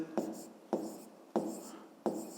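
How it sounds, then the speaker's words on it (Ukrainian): Handwriting during a fifth-grade math exercise, four short scratchy strokes at a steady rhythm, each a quick rasp fading out, close up and fairly quiet. "То ми пишемо тоді друга дія."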